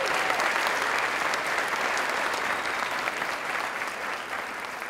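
A graduation audience gives a steady, even round of applause for event sponsors, a dense wash of clapping held at moderate volume throughout with no talking.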